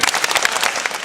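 A crowd of camp kids claps together in a loud, dense burst with cheering voices mixed in, close and energetic.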